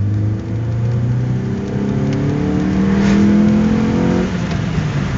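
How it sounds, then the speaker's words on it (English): A Mini R50 accelerates hard at full throttle, its engine note climbing through the gears in several rising sweeps with brief drops at each shift, loud and close, with no talking. "First gear, second gear, full gas."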